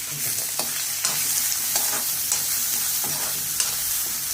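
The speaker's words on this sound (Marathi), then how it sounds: "सगळं छान खमंग असं भाजून घ्यायचं" Green chillies roasting in a hot pan for a spinach and green gram curry, a dense continuous sizzle with light periodic stirring scrapes, close and steady with no voices.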